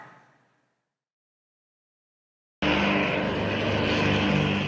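A propeller airplane flies near Martin County Airport, its loud engine drone cutting in abruptly after a short silence and holding steady and close, with a faint fading noise at the very start.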